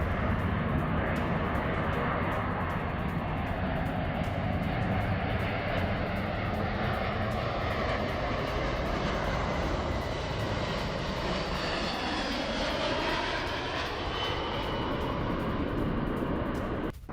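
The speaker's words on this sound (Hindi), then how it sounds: "ये देखिए अमेरिकी एटलस एयर कार्गो विमान ने पोलैंड के लुबिन में लैंडिंग की" An American Atlas Air cargo airplane lands at Lublin, Poland, its engines a broad, steady roar that stays loud and close for the whole stretch, shifting slightly in pitch as it rolls in, with no voices.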